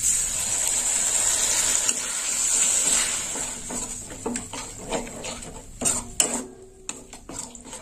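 Yogurt being stirred into an elephant foot yam curry in a cooking pot, a spoon clattering and scraping against the metal in uneven strokes, up close, with a steady hiss at first.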